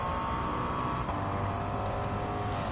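Turbocharged sports racing cars, including a 2015 Mitsubishi Lancer Evolution Final Edition, at Grand Valley Highway in Gran Turismo 7, with a steady loud engine drone holding one pitch and rising slightly in the latter half.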